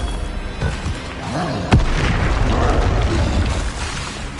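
A loud explosive blast from a Bombarda or Confringo spell in a wizard video game: one sharp crack followed by a dense rumbling roar that stays steady for several seconds.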